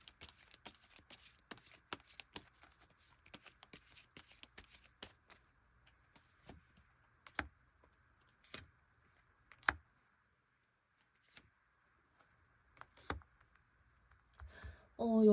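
Tarot cards are laid out and flipped over, giving sparse, crisp clicks and soft slaps scattered across a quiet table with gaps between them, and a brief voice starts at the very end.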